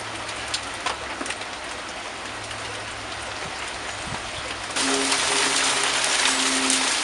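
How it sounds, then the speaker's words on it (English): Steady rain falling in a dense hiss that grows louder and brighter partway through as the wind picks up. "The wind picked up and rain started to fall."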